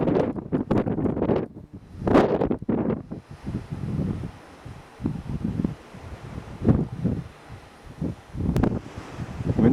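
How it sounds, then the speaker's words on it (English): Wind gusting hard across an exposed mountain ridge on the Helon Taylor Trail up Katahdin toward Pamola, buffeting the microphone in loud, uneven roaring surges that swell and fade throughout, with no voices. "Wind has been picking up."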